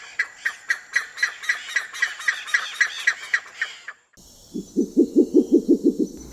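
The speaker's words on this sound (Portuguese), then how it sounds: "quando essas aves estão reunidas nos puleiros que costumam dormir, às vezes elas fazem uns sons estranhos assim que até parecem gargalhadas" Buff-necked ibises at a roost give a rapid run of harsh, cackling, laugh-like calls. After a short pause, a separate, deeper series of hooting calls follows.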